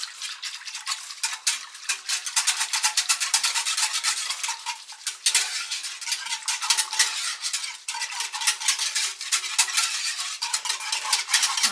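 A metal whisk scrapes and clicks steadily against a pot, with fast, even rhythmic strokes continuing throughout, close and moderately loud with no voices.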